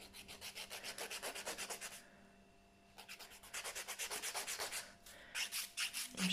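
A file shapes an acrylic polygel nail in quick rhythmic rubbing strokes, arriving in three close bursts separated by short pauses, soft overall with no talk.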